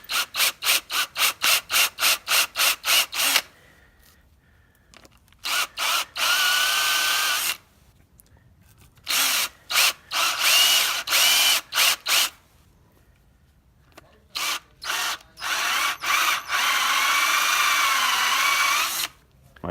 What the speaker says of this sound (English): Drill that out with the step bit.